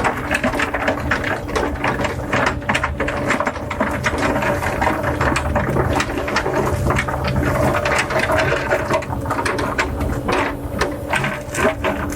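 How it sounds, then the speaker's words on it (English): Continuous gritty scraping and clattering of rocks grinding and settling into place as they stack into a drain, steady and close throughout. "Sound of that rock stacking in."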